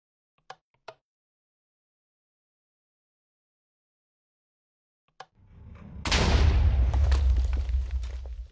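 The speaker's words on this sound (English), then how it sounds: "When a minecart, a TNT minecart, collides with another minecart, it explodes" TNT minecarts collide and explode in Minecraft: a few sharp clicks of redstone activation, then a sudden loud, sustained blast with heavy low rumble and crackle filling the last few seconds.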